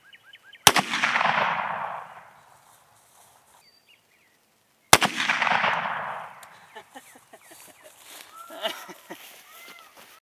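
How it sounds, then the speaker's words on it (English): Two sharp, loud 30-30 rifle shots fired at a mild steel knife, several seconds apart, each cracking hard and trailing into a long rolling echo across an open outdoor range, followed by faint birdsong and rustling. "to wrap up a fun day of shooting, I'm going to shoot the 30-30 at the steel knife"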